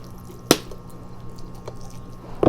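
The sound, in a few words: watering a potted Japanese red maple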